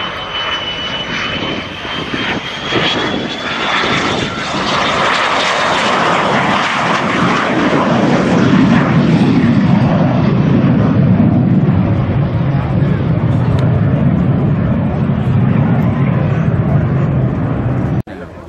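A de Havilland Venom jet flies past slowly with flaps down, its loud sustained engine roar swelling and shifting in pitch as it passes, while a voice talks over it.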